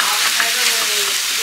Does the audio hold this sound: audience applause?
no